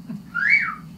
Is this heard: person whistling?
yes